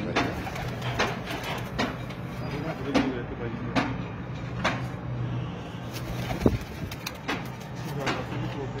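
Pigeons on a rooftop give soft coos and repeated wing flaps or clattering bursts at a steady pace, close by, with people talking in the background.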